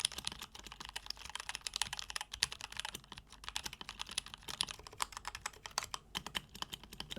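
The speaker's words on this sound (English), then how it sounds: "This Keychron has fantastic design, fantastic feel of typing." Typing on a Keychron K8 mechanical keyboard, a close, steady stream of crisp key clicks and clacks with quick irregular rhythm and no talking.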